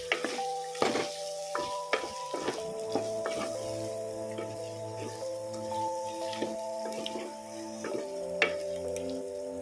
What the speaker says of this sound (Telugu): ఇది మంచిగా ఇదంతా కలుపుకోవాలి